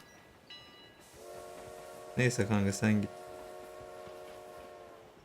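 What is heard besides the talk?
train passing in a video game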